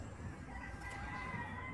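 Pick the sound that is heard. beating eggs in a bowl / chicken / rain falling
chicken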